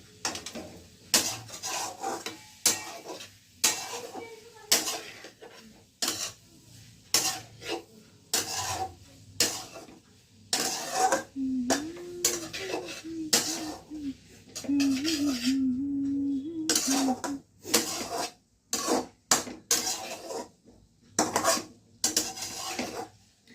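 Pasta being mixed with a utensil in a pan, heard as repeated scraping and rasping strokes against the metal in an irregular rhythm, close and fairly loud, with brief pauses between strokes.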